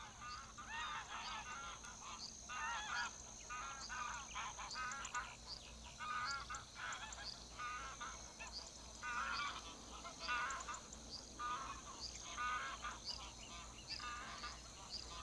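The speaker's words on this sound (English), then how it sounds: "Numerous flocks of wild, migrating geese stop off at Donana from northern Europe." A large flock of wild migrating geese, ancestors of domestic geese, honks continuously in a dense overlapping chorus at Doñana wetlands in Spain, heard at a moderate distance with no voices.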